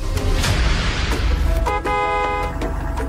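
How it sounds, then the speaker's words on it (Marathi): Saru's car pulling up: a loud, close engine rumble with a horn toot partway through, followed by a sustained tonal honk near the end over the continuing vehicle noise. "तो सरूच्याच गाडीचा आवाज"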